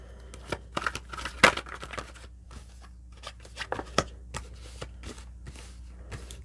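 Tarot cards shuffled and drawn by hand, a run of crisp riffling snaps and slaps in uneven bursts, close up, with no voices.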